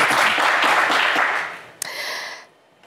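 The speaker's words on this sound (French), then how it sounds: "On vous applaudit très fort." Brief studio audience applause on a French TV game show, a loud burst of clapping that fades after about a second and a half, followed by a short sting of music.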